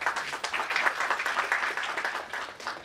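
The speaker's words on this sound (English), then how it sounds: "let's all welcome with warmth in our hearts and with big round of applause our CA Vivek Krishna Govind" Applause from an audience at an auditing standards workshop as a speaker is welcomed on stage, a steady mass of hand claps at moderate level with no speech.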